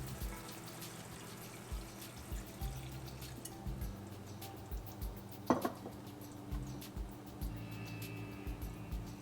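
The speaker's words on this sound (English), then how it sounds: "I'll go ahead and add 3/4 of a cup of water." Water pours steadily into a pan of simmering shahi paneer, a soft continuous trickle and splash heard faintly and up close, with no talking.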